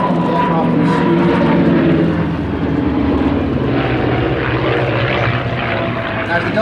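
Propeller roar of a Spitfire 5C fighter's piston engine in flight, a loud steady drone that fills the whole stretch with only slight swells in pitch and level.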